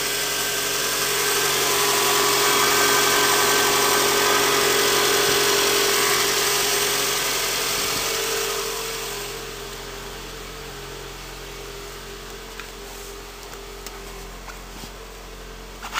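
A 2008 Toyota Scion engine idles after a cold start in freezing weather, a steady close hum with a high hiss that drops to a quieter, smoother idle partway through, with no speech.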